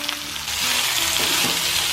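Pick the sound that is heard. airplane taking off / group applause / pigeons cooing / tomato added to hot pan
tomato added to hot pan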